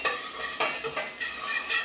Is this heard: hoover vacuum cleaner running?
no